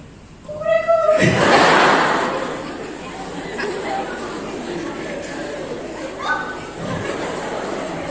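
A voice imitates a cat at a church event, drawing out a few high meows, with a louder burst of chatter and background noise in between.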